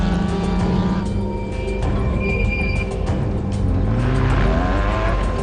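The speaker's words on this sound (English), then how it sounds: "Also a vehicle that makes the hair on your back stands, as the V6 motor sounds lovely as Wayne put it through the spaces." A V6-engined rally car races past on a stage, its engine a loud, continuous roar with shifting pitch and a brief swell near the end, heard alone without talk.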